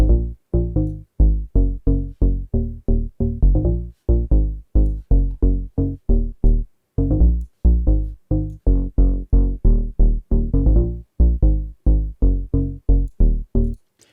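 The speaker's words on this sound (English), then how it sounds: "saturate the upper range of the bass sound" House sub bass made in Vital with tape-style saturation pushing the upper harmonics, played as a steady run of short, punchy repeated bass notes in a loud, close groove with no talking.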